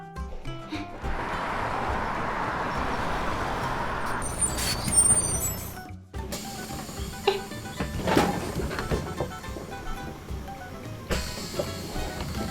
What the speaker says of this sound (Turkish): neyse ki diğer otobüs geliyor.